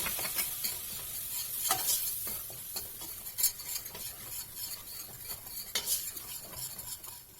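For a Hünkar Beğendi roux, flour is stirred into melted butter in a pan. Quiet sizzling sits under repeated scraping and clinking of a utensil against the pan.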